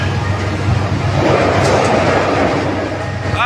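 A passenger train, number 804213 running from Queenstown to East London in South Africa, crosses a bridge with a loud, steady rumble and rattle close by, broadening into a hollow roar midway, with a brief squeal near the end.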